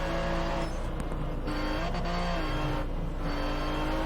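Chevrolet Corvette C7 Stingray in TDU2 corners with a loud, continuous engine drone that rises and falls with the throttle, and tire squeal runs over it.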